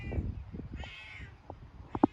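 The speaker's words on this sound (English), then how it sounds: "The cat is still as loud as ever, as you can hear." A cat meows loudly indoors several times, with short cries spread across a couple of seconds and the sharpest one at the end, over quiet background noise.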